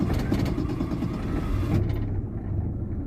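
A 1981 Ford Mustang's carburetted engine, suffering heat soak, is hot-started and settles into a rough, loud close-up idle.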